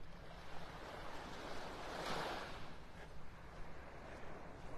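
Ocean surf on a beach in North Naples, Florida, heard as a steady, fairly faint wash of breaking waves with some wind rumble on the microphone and a gentle swell around the middle.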